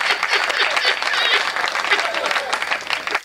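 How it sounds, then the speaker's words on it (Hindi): An audience at a Hindi comedy poetry gathering breaks into dense, loud applause that runs throughout before stopping abruptly at the end. "ताली बजाओ"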